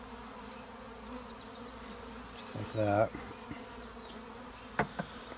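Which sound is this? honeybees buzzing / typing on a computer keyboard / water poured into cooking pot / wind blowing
honeybees buzzing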